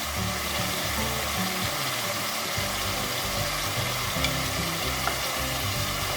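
Origliettas, a Sardinian carnival pastry, frying in hot oil, a steady dense sizzle and crackle that fills the whole stretch, close and even, with low rumbling bubbling beneath and no voices.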